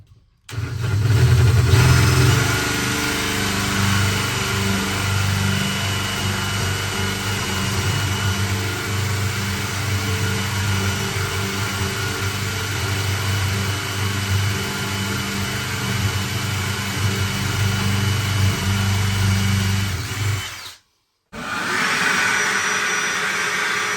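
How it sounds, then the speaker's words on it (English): A power drill bores holes in a pedestal leg during a flooring job, its steady motor whine running loud and continuous for about twenty seconds, then cutting out briefly before starting again, with no talking. "That means I can drill out those 2 holes."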